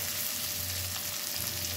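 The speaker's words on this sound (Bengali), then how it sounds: "এবার মশলার সাথে পুরো আলুটাকে আমি মিশিয়ে নেব" Potatoes being stir-fried with spices for a coriander potato dish give a steady, close sizzle with a low hum running underneath and faint stirring, and no voices.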